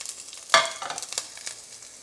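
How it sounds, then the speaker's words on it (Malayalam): Coconut, coriander, chilli and fennel dry roast in a pan while being stirred, with one sharp scrape followed by soft, faint rustling and crackle over a quiet background. "മല്ലിയിട്ടു, മുളക്, പെരിഞ്ജീരകം, എല്ലാ ഐറ്റംസും നന്നായിട്ട് നമുക്ക് ബ്രൗൺ കളറാവണവരെ നന്നായിട്ട് വറുത്തെടുക്കാം."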